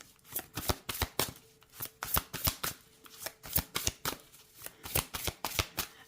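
A deck of tarot cards is shuffled by hand in quick, crisp riffles and bridges, a steady run of close, fairly soft card slaps repeating with short pauses, with no talk.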